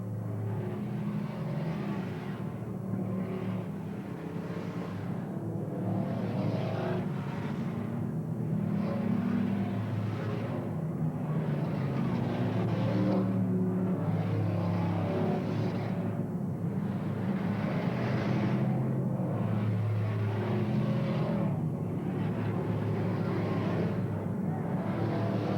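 Several race cars roar around the oval at Willamette Speedway, engines rising and falling in a steady repeating pattern as the pack sweeps past, loud and continuous throughout.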